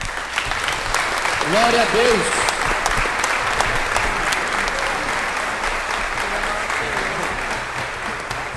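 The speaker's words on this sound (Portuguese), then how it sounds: "Irmãos, dê uma salva de palmas." Church congregation applauding steadily throughout, a dense, sustained wash of many hands clapping at moderate distance, with a brief spoken exclamation early on above the clapping.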